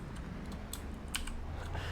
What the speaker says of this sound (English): we like the ASMR keyboard